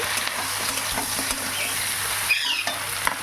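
A pan of taro, potato and eggplant curry sizzles loudly as it is stirred, a continuous hot frying hiss with brief spoon scrapes against the pan, close and alone.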